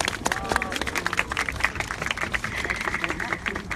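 A crowd applauds at a weekly Wednesday protest rally. The clapping is dense and steady for about four seconds, with a murmur of voices mixed in.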